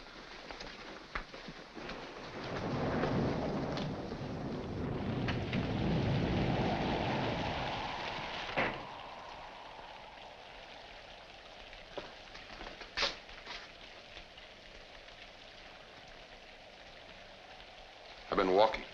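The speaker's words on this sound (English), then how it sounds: "In this rain? Yes, in this rain." Steady rain falls under a low thunder rumble through the first half, then the downpour continues as a soft background hiss with a few sharp knocks, in an old 1946 film scene.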